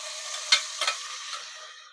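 Garlic and onion sizzle in a pan for corned beef, a soft high hiss with a couple of sharp stirring scrapes near the start, fading slightly toward the end.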